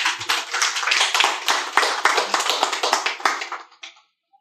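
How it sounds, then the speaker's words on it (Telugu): Audience applause at a speech in Telugu, a dense burst of many hands clapping loudly and steadily for about three and a half seconds before quickly dying away. "క్లాప్స్"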